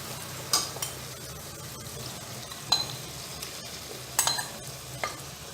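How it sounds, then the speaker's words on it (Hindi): Marinated prawns stir-fry with an oily masala in a pan, giving a low steady sizzle with a few sharp scraping stirs spaced a second or two apart. "इसे भी इन मसालों के साथ अच्छे से फ्राई कर लेंगे"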